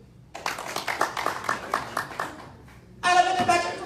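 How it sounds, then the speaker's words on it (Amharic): A congregation at a preacher's gathering claps together in a steady rhythm, about eight evenly spaced claps, before a louder, fuller burst of sound with voices rises near the end. "እስኪ አጨብጭቡ።"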